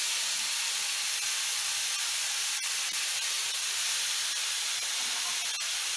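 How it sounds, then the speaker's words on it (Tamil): Tomatoes hitting a hot pan of softened aromatics in a Tamil home kitchen, giving a steady, even hiss of sizzling that holds throughout at moderate level with a few faint clicks, no voices. "இப்ப நம்ம வந்து தக்காளி போட்டுப்போம்."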